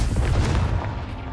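A booming magical blast from the Confringo fire spell in Hogwarts Legacy, a loud, dense rumble that fills the whole clip and fades slightly toward the end, with no talk.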